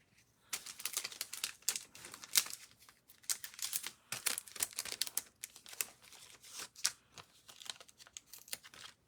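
Foam tape is peeled and handled close up while making wiper cards with stamped images. Quick irregular crinkles, taps and rustles go on for several seconds.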